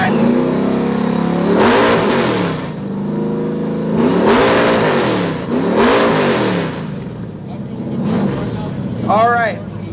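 Muscle cars, trucks and JDM cars rev loud modified exhausts at an exhaust competition, several rising and falling revs in succession, with a crowd cheering and shouting over them.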